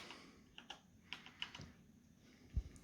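Keys tap on a computer keyboard as a login code is entered on a freshly built PC, a handful of quiet, irregular clicks at close range.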